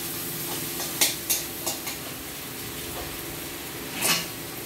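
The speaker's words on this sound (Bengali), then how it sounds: "মশলাটা কষিয়ে এবার কাঁকড়াগুলো দিয়ে দেবো" Crabs dropped into fried spice paste in a pan, a few sharp clatters and splashes near the start and another burst near the end over a steady sizzle.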